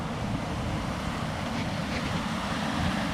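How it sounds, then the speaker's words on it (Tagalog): Small waterfall at Querocep Falls rushes in a steady broadband roar, continuous and fairly loud, a dense even wash of water noise without voices. "Mini falls."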